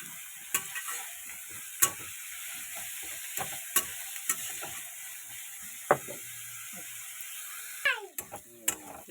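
An egg frying in a pan, a steady soft sizzle with scattered clicks and scrapes of a utensil against the pan, fairly close and moderately quiet, with no talk.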